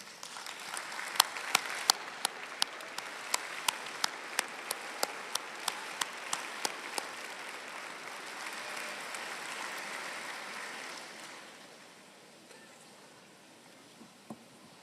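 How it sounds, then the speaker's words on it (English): Audience applause at a university graduation ceremony fills the space with sharp individual claps standing out early, then the clapping thins and fades away toward the end. "join me in a round of applause to thank them for their unwavering support"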